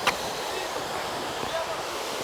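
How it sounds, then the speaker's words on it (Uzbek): A waterfall at Tovoqsoy gives off a steady, full hiss of falling water that stays constant and fairly close throughout, with a short faint sound at the start. "bitta sharshara bu yerda tayyor turibdi. Mana ko'rasizlar. Ovozini o'zi odamga rohat baxsh etadi."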